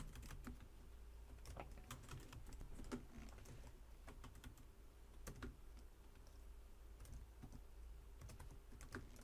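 A project name is typed on a computer keyboard as quiet, close key clicks in irregular bursts over a low background hum, with no talking.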